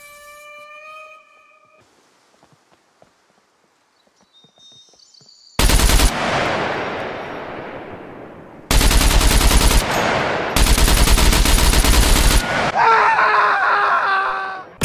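Gunfire in the survival video game SCUM: after a quiet stretch with faint tones, loud close bursts of automatic fire erupt in three long volleys, followed by ringing electronic effects.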